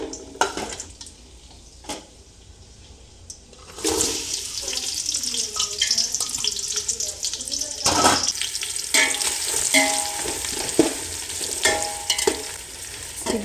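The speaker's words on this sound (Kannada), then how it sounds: "ಇದು ಚೆನ್ನಾಗಿ ರೋಸ್ಟ್ ಆಗಬೇಕು, ಅಲ್ಲಿವರೆಗೆ ಫ್ರೈ ಮಾಡಿ" Sliced onions frying in oil in a home kitchen, a steady close sizzle that swells loudly after a quieter opening, with stirring clatter and occasional bursts of running water in the background.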